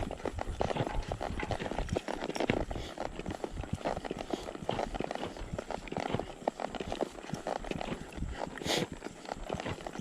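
Hooves of a Walking Horse mare clip-clopping steadily along an outdoor trail while ridden, a close continuous rhythmic patter of footfalls with brief gaps, loud and dense, no talking.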